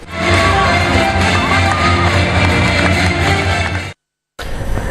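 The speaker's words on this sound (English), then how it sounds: "earning the cheers and applause of their fellow students and teachers" Students and teachers at an international school cheering and applauding a victory, a dense, steady wash of crowd noise and whoops that cuts off abruptly near the end before resuming briefly.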